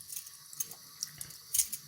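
A TTO safety razor rinsed under a running tap, with soft, quiet splashing of water and a few brief louder spatters over about two seconds, no talking.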